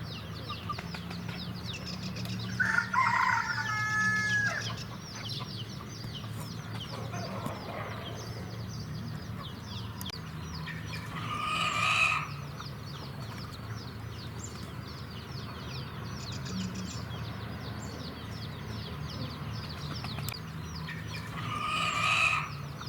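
Chickens cluck and a rooster calls in a fortress moat in Malta, a few louder outbursts rising over a steady background murmur of fowl.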